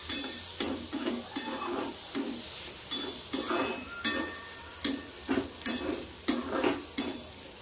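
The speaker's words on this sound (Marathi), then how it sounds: "अंडा आपण उकळून फेकून घ्यायचं तव्यावरती किंवा तुमच्या पॅनमध्ये" Boiled egg being tossed and stirred in a pan with onion and tomato, a series of sharp clinks and scrapes of a utensil against metal at a steady, uneven rhythm over a faint background sizzle, close and fairly loud, with no talking.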